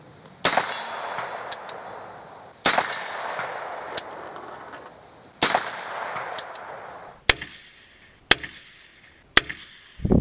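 A Dan Wesson .357 Magnum revolver fires single action at a range. There are about seven sharp, loud gunshots, spaced irregularly over several seconds, each followed by a ringing decay, with no talking.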